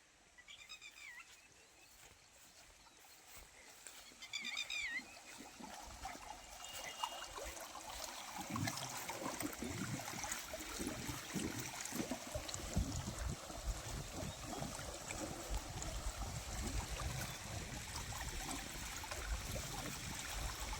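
Water running from a freshly switched-on outlet into a field channel, a steady close trickling and gushing flow that builds after a few seconds and carries on without talk.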